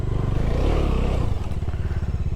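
A mini motorcycle riding off-road gives a steady, close engine drone with a rough, buzzing rhythm. Scraping and clattering run underneath, and no one speaks.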